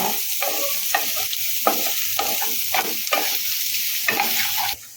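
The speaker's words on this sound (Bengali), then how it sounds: "গাজরটাকে ভালো করে নেড়ে নিয়েছি" Carrots being sautéed for sweet corn upma sizzle loudly and steadily while a spatula stirs in repeated scraping strokes, until the sound cuts off abruptly near the end.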